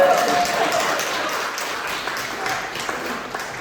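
A book launch audience applauds in a dense, steady patter of clapping that fades slightly, with voices mixed in.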